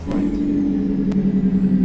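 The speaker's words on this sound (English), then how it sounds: "Firm on those brakes." A truck brakes in American Truck Simulator, fitted with a Cummins N14P engine: a loud, steady low engine drone with short hissing bursts like air brakes.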